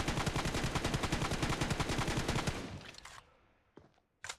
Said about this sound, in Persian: از اینجا شروع کردیم به تیر اندازی